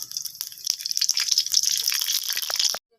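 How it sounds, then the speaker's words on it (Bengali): Mustard oil poured into a pan of frying whole spices (bay leaf, five-spice, cumin): a close, bright spattering hiss with crackling pops that swells, then cuts off abruptly near the end, with no voices. "এরপরে দিয়ে দিব সর্ষের তেল"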